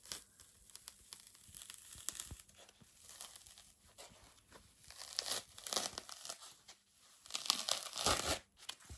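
Needle-felted wool being peeled off its backing in a craft kit, giving soft tearing and crinkling in irregular bursts that swell and fade, fairly close and quiet.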